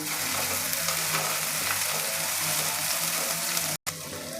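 Freshly pounded paste sizzles steadily in hot oil for a potato and field bean kurma, a continuous close frying hiss with faint stirring, broken by a brief silent gap near the end.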